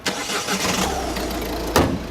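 A car engine with fouled spark plugs cranks and tries to start, a steady close mechanical churning with a sharp surge near the end, heard alone without talk.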